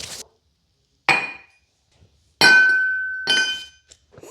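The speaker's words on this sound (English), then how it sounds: "Fire makes crushing quartz a lot easier." Burnt quartz ore being crushed: several sharp, glassy cracks and clinks in separate bursts, some ringing briefly, close and loud with quiet gaps between.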